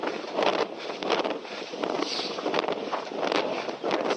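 Strong wind buffets a microphone outdoors on the edge of town while someone runs toward a boating pond, producing steady loud rumbling gusts that swell and dip throughout with no other clear sounds.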